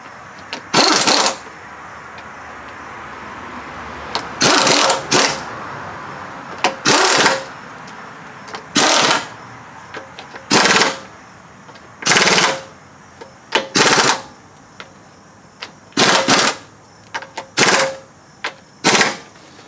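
Hard hammer blows drive a hat onto a Kuhn GMD 500 disc mower spindle, sounding as loud, sharp metallic strikes, some in quick pairs or triplets, spaced irregularly over a quiet background.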